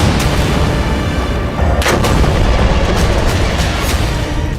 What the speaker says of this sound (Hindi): वो बस सिनवार की मौत पुख्ता करने के लिए गाजा पर लगातार बम मारे जा रहा है